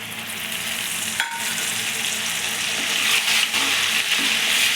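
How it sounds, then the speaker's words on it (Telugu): Tamarind pulp fries in hot oil while being stirred, giving a steady bright sizzle throughout with faint scraping of the spoon and a few soft clinks, no voices. "ఇలా కలుపుతూ చింతపండు గుజ్జు నుండి ఆయిల్ పైకి వచ్చే వరకు ఫ్రై చేసుకోవాలి"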